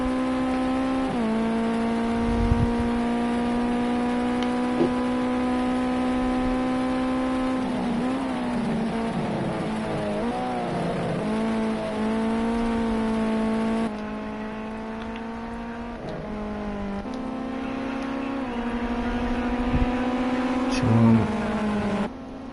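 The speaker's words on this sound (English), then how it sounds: "go on board here for the last lap of this race with our race leader" Onboard a race car on the final lap of an EDC Weekend Cup race at Donington Park National, the engine drones steadily at high revs, dipping and climbing through corners and gear changes, with a commentator talking over it.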